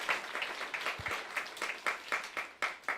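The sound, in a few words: church congregation applause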